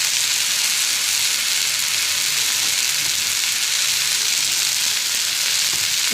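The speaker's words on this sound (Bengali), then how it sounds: "শাকটা এখন ভাজবো, আগে পেঁয়াজটা একটু ভেজে নিই।" Onion frying in a pan before greens are added, a loud, unbroken, even sizzle filling the whole stretch, close up and with no voices.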